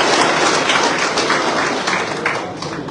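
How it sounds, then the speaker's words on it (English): An audience at a political delegates' gathering in Ghana applauds steadily, a dense broad wash of clapping that holds loud for about three seconds and then eases slightly. "Let's clap hands for ourselves for being patient."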